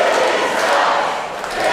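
A wrestling crowd at Bellum Fermentation reacts to Billy Dixon during a no-DQ match, a loud, continuous wash of shouting and jeering voices filling the room.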